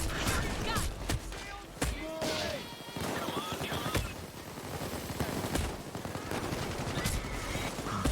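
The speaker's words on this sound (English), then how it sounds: "Ivan, if you shoot like this, you will never miss" Gunfire in the heist video game Payday 2, bursts of shots and machine-gun fire with crashes, mixed with game sounds, while people talk over the action.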